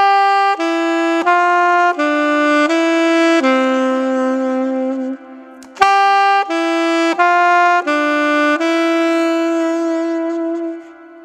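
Solo saxophone plays a descending pattern in thirds, clear sustained notes stepping down in two phrases with a short breath between them, up close and unaccompanied.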